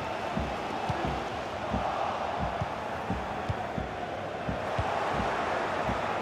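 A stadium crowd in a FIFA football video game, Bayern Munich against PSG, makes a steady tense roar with faint chants throughout and regular low thumps under it.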